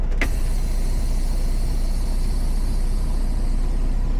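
A semi-truck tractor's diesel engine starts with a brief crank transient, then settles into a steady low idling rumble that fills the rest of the clip, close and continuous with no talk.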